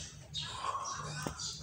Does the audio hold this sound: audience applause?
no